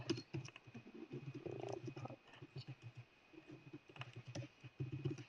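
Fingers type on a computer keyboard while filling in an online form, with quick, irregular soft key clicks, quiet and close, and no talking.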